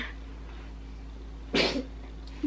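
A single sharp sneeze-like burst breaks through steady low background hum, brief and fairly close.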